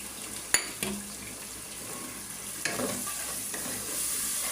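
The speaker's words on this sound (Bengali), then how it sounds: "এখন আমি চিংড়ি মাছগুলো দিয়ে দেব" Shrimp frying in a pan, a low steady sizzle punctuated by a few sharp clinks and scrapes of a utensil against the pan.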